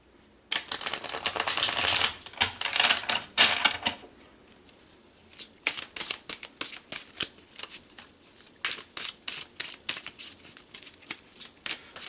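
Tarot cards shuffled by hand: a dense riffling burst of crisp paper flutter, then a run of separate sharp card snaps and taps at a steady, quickening rhythm, close and clear with no voice.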